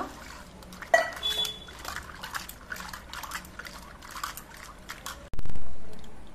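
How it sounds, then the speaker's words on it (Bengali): Jackfruit seeds rinsed in water in a bowl, with soft sloshing and trickling and a louder splash near the end. "এবার বীজগুলো আরো কয়েকবার আমি জল দিয়ে ধুয়ে নেব।"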